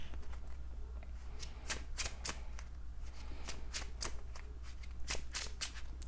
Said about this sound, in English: We get that encounter card, and then shuffle.